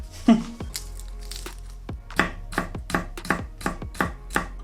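A knife chops garlic cloves on a cutting board in a series of crisp, close, evenly spaced thuds, about a dozen strikes with no talking.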